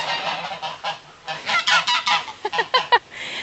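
Geese honk loudly and close by, a rapid string of harsh squawking calls that grows busier toward the end with no talking.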